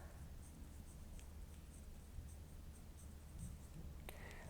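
A pen writes an answer on paper during a seventh-grade junior high science lab on volume, a steady faint scratching that continues throughout against a low background hum.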